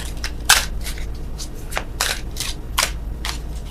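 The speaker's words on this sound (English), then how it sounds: "Oh, worst shuffling in the world." Tarot cards shuffled by hand in a series of crisp riffling bursts and soft slides, close and fairly loud, with no talking.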